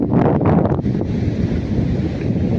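Wind buffets the microphone at a seashore where the Subarnarekha meets the sea, with waves washing in beneath, loud and close for a few seconds.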